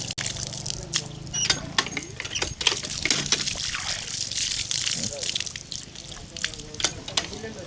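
Water trickles and splashes from a filter tap with irregular drips and clinks, while a person talks intermittently over it.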